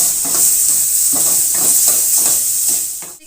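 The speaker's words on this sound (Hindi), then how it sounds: "थोड़ा सा इसको मसालों को कर लेंगे, भून लेंगे" Achar masala spices roast in a hot pan for achari bhindi, giving a loud, continuous sizzling hiss with rhythmic stirring scrapes and no talking.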